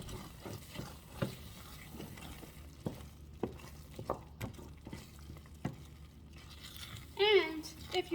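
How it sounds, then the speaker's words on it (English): Broccoli and chicken are stirred in a pan, with quiet, irregular scrapes and taps of the utensil against the bottom and a faint background hum. "Just gonna stir it, get it off the bottom of the pan."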